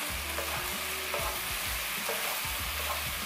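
Chicken sizzles and is stirred in a hot pan over high heat for a kung pao dish, with steady frying crackle and repeated scraping stirs at a close, even level and no talking.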